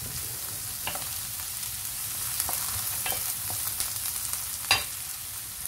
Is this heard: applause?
no